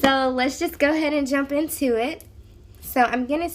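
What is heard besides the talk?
No distinct noise like a dog, phone or traffic.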